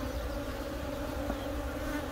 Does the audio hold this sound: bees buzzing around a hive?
yes